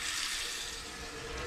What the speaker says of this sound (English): run the hot water.